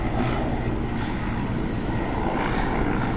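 A helicopter circles overhead with a steady, loud, unbroken engine and rotor drone and no talk.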